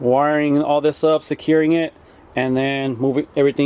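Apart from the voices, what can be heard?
No distinct noise like a dog, phone or traffic.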